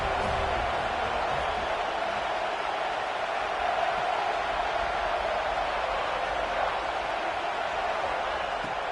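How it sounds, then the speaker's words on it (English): A college football stadium crowd roars on third down, a loud, steady wash of noise that holds for the whole stretch with no clear voices on top. "Decibels rising as the crowd gets behind this defense on 3rd down."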